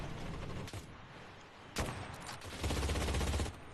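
A machine gun in the World War II shooter Enlisted fires in bursts, with short rattling volleys separated by brief pauses and a longer sustained burst near the end, loud and close.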